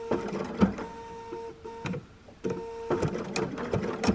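A sewing machine stitches raw-edge appliqué in short bursts of whirring needle motion, close up, with brief pauses between runs as the fabric is stopped and rotated.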